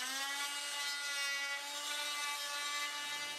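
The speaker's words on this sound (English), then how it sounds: "Again, we're using a multi-tool." An oscillating multi-tool cuts through wooden floor molding, giving a continuous, loud, close buzzing whine with steady harmonic tones that runs unbroken and stops at the end.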